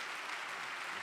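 Church congregation applauding to congratulate a pastor, a brief, faint, even wash of clapping heard from a distance.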